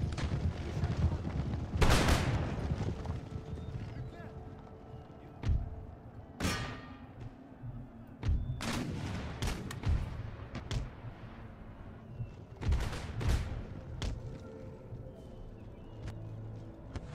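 Troops firing at will in the video game Empire Total War: scattered musket volleys and single shots crack irregularly over a battlefield rumble, some bursts loud and near, others fainter, with a voice talking between them.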